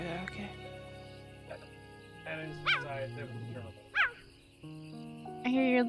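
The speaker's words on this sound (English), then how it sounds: "I hear your little chirps." Leopard cub in the video game Primal Earth gives several short, high chirps spaced across a few seconds, over a layer of game music and ambient tones.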